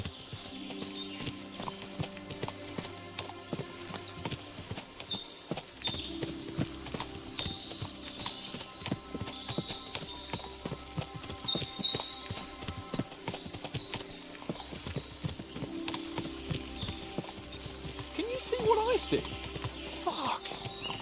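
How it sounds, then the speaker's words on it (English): Many horses' hooves clip-clop steadily across ground in the medieval game Kingdom Come: Deliverance 2, a continuous trampling with a faint whinny, under people talking throughout. "What a lot of horses!"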